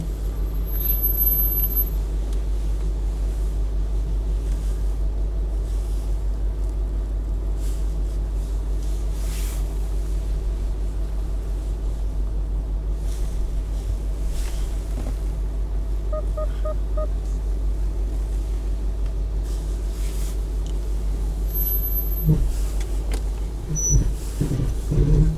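A Range Rover 3.6 TDV8 diesel reverses off road, its engine a steady low rumble throughout, with a few brief clunks and knocks near the end.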